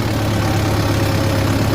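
A Mahindra 585 tractor engine runs in medium third gear, producing a loud, steady low-pitched diesel drone with a constant throb and no speech.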